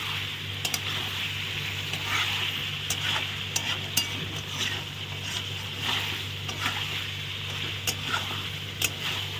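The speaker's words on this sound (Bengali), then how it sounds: "এই দেখো মাংসটা একদম ভাজা ভাজা হয়ে গেছে" Mutton browns in a pan under a constant loud sizzle and a low hum, while a spatula scrapes and taps the metal at irregular intervals, close up and without speech.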